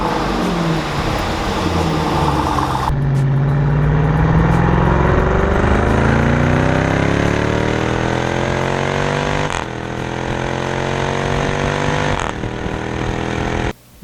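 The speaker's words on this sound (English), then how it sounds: "You've got amazing supercharged whine at the front, and one of the nastiest sounding V8s coming through the quad pipes at the rear." A supercharged V8 in a Jeep Trackhawk revs hard through quad exhaust pipes, a loud, close roar whose pitch climbs steadily through the gears, with a brief dip and lift in between and a sudden stop at the end.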